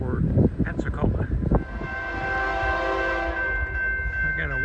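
A freight train at a railroad crossover in Amory, Mississippi sounds a long horn blast on a hot August evening, preceded by rumbling and a voice talking briefly.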